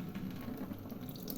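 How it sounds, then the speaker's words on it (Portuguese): A gourmet kitchen faucet running with weak flow into a sink, a thin, steady trickling splash heard close and quietly, with no voices. "Eu vou mostrar aqui o fluxo de água que ela tem."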